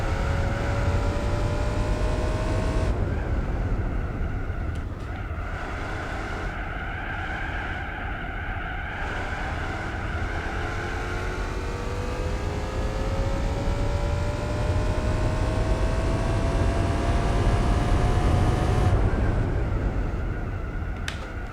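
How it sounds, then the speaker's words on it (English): A car engine in Gran Turismo 4 drones and rises in pitch as it revs, the intake induction note humming steadily through several gear changes, with no talking. "That induction sound is amazing at low revs."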